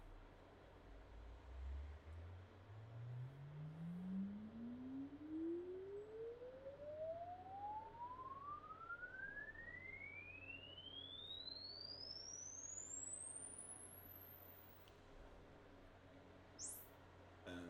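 A pure sine sweep test tone for Dolby Atmos 9.1.6 speaker measurement glides smoothly upward from deep bass to a very high pitch over about fifteen seconds, steady and clean over faint room noise.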